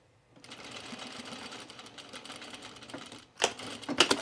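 A home sewing machine stitches a seam on a Henley shirt, a steady close whirring run that stops briefly before a few short bursts of stitching near the end.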